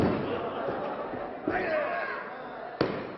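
A wrestling crowd at the Élysée-Montmartre roars and cheers in a sustained, reverberant mass of voices, with a sharp slam-like impact near the end.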